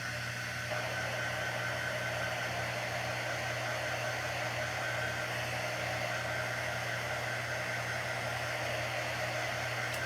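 A hair dryer runs steadily on a handmade door tag, a constant airy whoosh with a low motor hum, alone and unbroken throughout.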